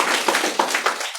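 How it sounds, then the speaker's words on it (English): Brief burst of audience applause for a first-time public speaker at a cyber security talk on neurodiversity, a dense patter of claps with a few sharper hand strikes standing out, lasting only about a second. "round of applause for Emily"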